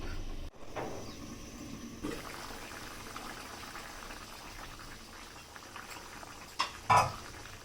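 Potatoes, carrots and papaya simmer in a covered pot on a home stove, giving a low steady bubbling hiss. A couple of short metallic clinks of a lid or pan sound near the end.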